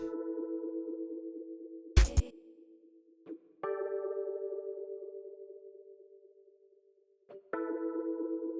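Synthesized broken beat parts mixed in Cubase with reverb and phaser, sustained tonal notes with sweeping phaser coloration, punctuated by a sharp percussive hit and restarting phrases that decay between entries.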